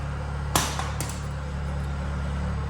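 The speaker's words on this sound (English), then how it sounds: "So you use one of these and then you punch holes out" Two sharp metallic clicks of a hand hole punch biting through a steel inner rear arch panel on a JDM Honda Integra DC2 Type R, close and distinct over a steady workshop hum.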